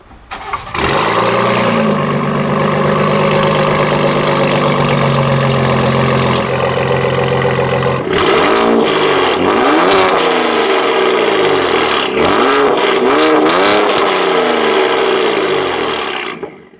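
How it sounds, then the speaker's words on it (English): A 2019 Ford Raptor twin-turbo V6 with no catalytic converters and a Borla S-Type exhaust cranks and starts, settles into a rough, throaty idle, then revs repeatedly with sharp rising and falling exhaust blasts. "it's definitely loud with no cats and a Borla S-type exhaust connecting to the AFE downpipes"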